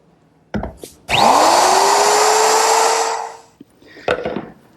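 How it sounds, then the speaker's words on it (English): A router fitted with a chamfering bit eases the top edges of a wooden quilt-rack foot, spinning up to a loud, sustained whine for about two seconds, with a few sharp knocks of handling before and after. "Now using my router with a chamfering bit, I'm just easing the edges at the top of the foot."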